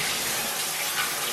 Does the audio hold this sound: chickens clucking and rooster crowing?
no